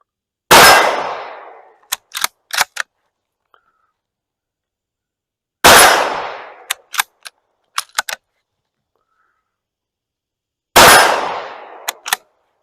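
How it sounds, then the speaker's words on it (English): A bolt-action rifle fires three loud shots outdoors, several seconds apart. Each blast is followed by quick metallic clacks as the bolt is cycled. "So let's shoot this bolt action and get a look at this."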